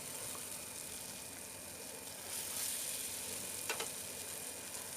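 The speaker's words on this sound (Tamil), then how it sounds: "போட்டுட்டு நம்ம 4 பக்கமுமே வறுக்கணும்" Fish pieces fry in a pan with a steady broadband sizzle, swelling a little midway, with a brief utensil scrape or crackle near the end.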